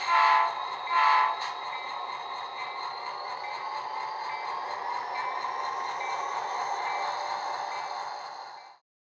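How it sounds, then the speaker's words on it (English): A model train horn sounds as the train leaves the station, opening with two short blasts that run into a long, steady, moderately loud tone before cutting off abruptly. "Sound the horn because it's time to leave the station."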